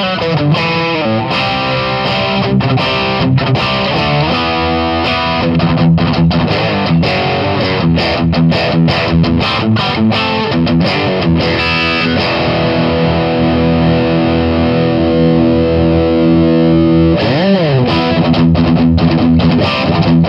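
A Blackstar Debut 50R amplifier with heavily distorted electric guitar plays chugging classic 80s British-style metal riffs and sustained power chords, loud and aggressive, with no voices.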